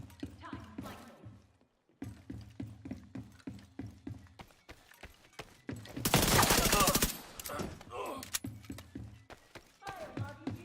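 Gunfire in a firefight from the video game The Division 2: rapid regular bursts of shots, broken by a loud roaring blast in the middle, with voices shouting between the bursts.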